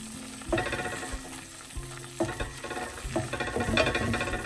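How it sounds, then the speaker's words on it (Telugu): Paste frying in a pan gives a continuous close sizzle, with stirring bursts swelling in rhythm every second or so. "ఇలా ఫ్రై చేసుకుంటే మనకి అరోమా బాగా వస్తుంది"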